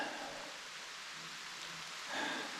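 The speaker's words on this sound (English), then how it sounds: "And it's starting to rain." Rain falling steadily on a forest trail in a state forest, a soft continuous hiss with no voices, briefly swelling louder near the end.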